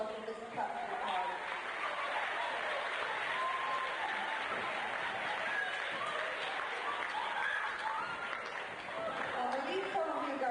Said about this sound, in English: Nice round of applause for Mrs. Captain Carl.